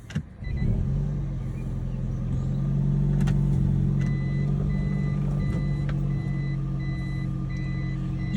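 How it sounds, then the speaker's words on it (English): A Toyota Prius's reverse warning beep repeats steadily over a low engine idle heard from inside the cabin, fairly quiet. "there's a warning beep"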